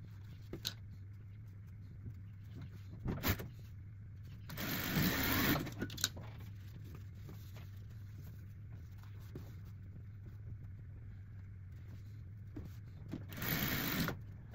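A sewing machine runs a zigzag stitch across small fabric scraps in a few short mechanical bursts separated by pauses, faint and close, over a steady low hum.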